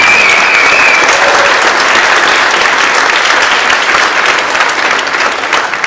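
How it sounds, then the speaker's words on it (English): An audience at a school holiday band concert applauds the students, a loud, dense wash of many clapping hands filling the room evenly for about six seconds without letup. "And one more round of applause for all students."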